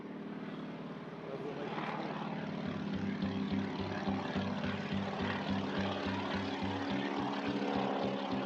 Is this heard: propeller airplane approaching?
yes